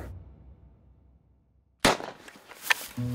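A rifle shot fired at an aoudad during a Texas hunt cracks sharp and loud after near silence, then echoes and rumbles across open rough terrain, followed by brief rustling movement close by.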